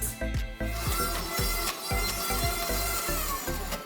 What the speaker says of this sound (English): We probably want to blend that for around another 30 seconds.